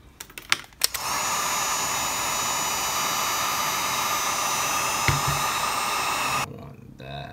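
A heat gun blows steadily to reheat a freshly glued piece on a PIR motion detector being waterproofed, a loud continuous roar lasting several seconds after a few clicks, then cutting off.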